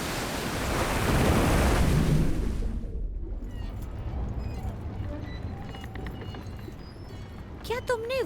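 Ocean waves crash and rush loudly around a boat at sea in an animated Bible story, a dense roar for the first few seconds before easing into a lower wash, with a brief voice near the end.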